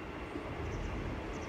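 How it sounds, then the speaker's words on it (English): A Great Western Railway train arrives at Exeter Central station, its carriages giving a steady low rumble with faint rail noise throughout, no voices heard. "Arriving now is the 1202 Great Western Railway service that's terminating here."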